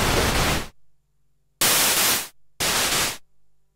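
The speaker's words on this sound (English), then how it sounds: "white noise on the Grandmother" Three bursts of harsh white-noise hiss from a Moog Grandmother analog synthesizer, each cut off abruptly, separated by short near-silent gaps with a faint hum.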